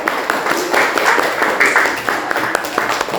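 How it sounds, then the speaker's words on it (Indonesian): A classroom of students clapping for group 2 during a lesson, a dense, uneven patter of hands close by with voices mixed in throughout. "tepuk tangan untuk kelompok 2"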